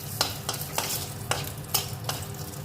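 Bay leaves frying in hot oil in a wok for mixed dal with potatoes: a continuous close sizzle with several sharp scraping stirs at irregular intervals.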